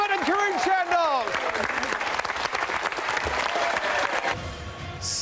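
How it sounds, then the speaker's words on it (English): Audience applause at the Laureus Sports Awards 2014 ceremony, a dense, steady clatter of many hands filling the room, with an announcer's voice talking over the start of it. "Keep the applause going, ladies and gentlemen"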